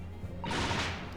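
A Venus special firework from the video game Great Ace Attorney 2 goes off with a single sharp, gunshot-like bang and a short crackling burst that tails off.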